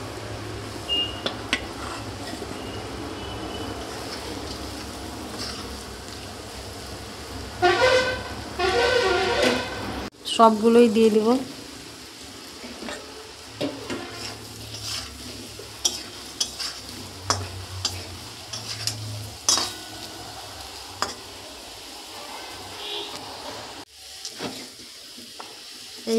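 Pieces of food frying in hot oil in a wok give off a steady sizzle and hiss, with stirring and metal scraping in bursts. A voice speaks briefly.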